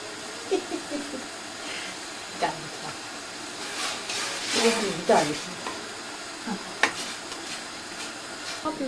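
Hot butter poured over home-made Turkish erişte pasta hisses and sizzles in a kitchen, a continuous frying crackle that swells in several bursts of louder spattering.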